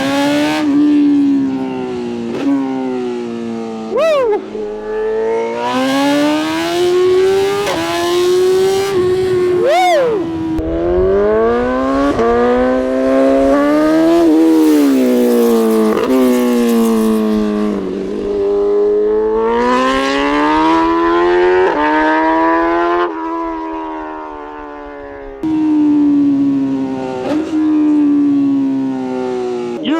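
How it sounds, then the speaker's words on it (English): A 2025 BMW S1000RR with a full titanium Akrapovic exhaust revs repeatedly, its loud, close engine note climbing and falling in sustained howling sweeps, with a brief shout partway through. "this full titanium Akrapovic exhaust"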